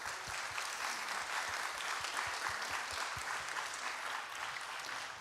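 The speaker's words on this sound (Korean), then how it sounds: "나오실 때 큰 박수 부탁드립니다." A church youth congregation at a combined worship service applauds steadily for several seconds, a quiet, even wash of clapping heard from a distance without talk.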